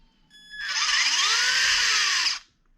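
The electric motor of a Latrax Teton RC truck whines up to full speed and back down in one short, loud, high-pitched burst lasting about two seconds, heard alone without talking.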